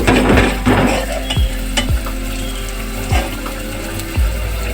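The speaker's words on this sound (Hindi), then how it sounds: "अब मैं इसमें ऐड करूँगी सूजी को अच्छे से फ्राई करना है घी में" Semolina (suji) frying in ghee for halwa, with a steady crackling sizzle beneath a handful of sharp spoon scrapes against the pan at roughly even intervals, close and fairly loud, with no voices.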